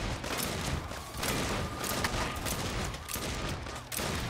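Rapid gunfire from a hand cannon in the video game Saints Row rattles continuously with dense, crackling bursts and booms, fairly loud throughout with no talking.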